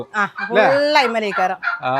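Close, loud native chicken clucking and squawking in quick overlapping bursts, several birds calling one after another.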